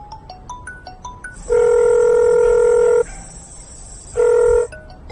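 A telephone rings twice with a loud electronic tone: a long ring of about a second and a half, then a shorter one, both preceded by rising beeping tones.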